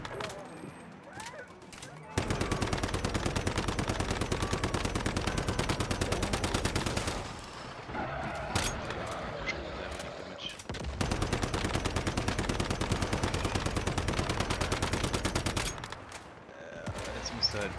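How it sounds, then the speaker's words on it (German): A shrapnel gun in the shooter game Once Human fires long rapid automatic bursts, loud and close, broken by short pauses, with a voice talking in between. "Mit deiner Schrapnellgun"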